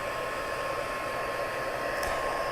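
A crafting heat tool set on low blows a steady, even rush of hot air for warming cardstock, close and continuous with no pauses or talking.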